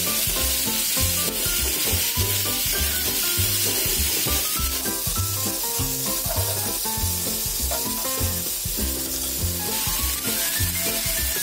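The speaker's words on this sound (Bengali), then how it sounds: "এখন আমি টমেটো আর কাঁচামরিচটা একসাথে দিয়ে দিব।" Chopped tomato and green chili go into a hot frying pan for noodles and sizzle loudly and steadily with a constant hissing fry, close and continuous throughout, with no speech.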